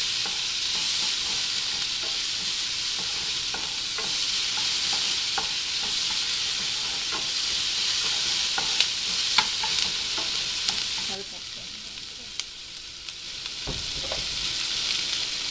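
Onions sautéing in a pan for a Tamil mor kulambu, a continuous bright sizzle with repeated scraping stirs and a few light clinks, close and loud, no talking.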